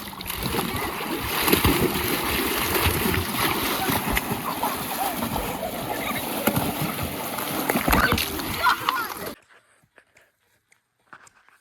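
Continuous close splashing and sloshing of pool water as waves are made, with rough, churning bursts, then it abruptly stops into near silence.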